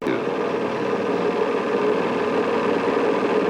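An engine runs steadily during a simulated charging test on an electrical demonstrator, making a constant mid-pitched drone with a faint whine and no variation in level.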